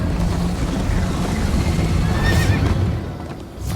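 A horse whinnies in the video game Minecraft Story Mode, a high wavering neigh rising briefly over a dense, steady bed of game noise and rumble, with no talk.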